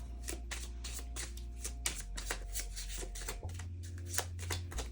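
Tarot cards being shuffled during a card reading, a steady run of quick papery riffles and flicks close up, with a low background hum throughout and no talking.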